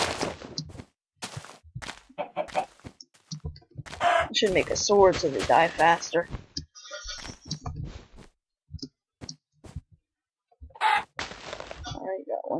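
Chickens clucking in the Minecraft video game, short blocky game sound effects while someone talks over them, mixed with clicks and hits from play.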